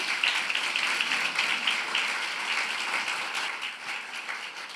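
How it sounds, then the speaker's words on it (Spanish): A church congregation at a Spanish-language sermon applauds together, producing dense, sustained clapping that holds steady and then eases slightly in volume. "Denle un aplauso al Señor"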